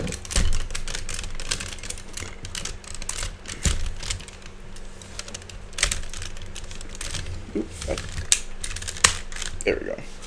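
Hard plastic parts of a Takara MP-01 Convoy transforming toy clicking and snapping into place, a scattered series of sharp close clicks and rattles with handling noise between them.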